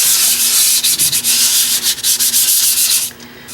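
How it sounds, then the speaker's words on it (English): Light sanding of dry acrylic paint on wood, with a close, steady scratchy rubbing made of repeated short strokes that stops near the end. "I am going to very lightly sand this."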